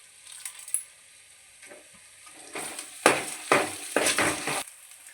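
Chicken fries in a pan with onion paste, turmeric and salt. Quiet light clinks come first, then a series of loud bursts of sizzling and stirring, each lasting about a second. No one speaks.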